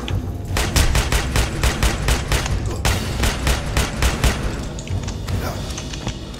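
Rapid bursts of gunfire from the Aliens: Colonial Marines video game, loud sustained volleys of repeated shots with heavy booming thumps, continuing almost without pause.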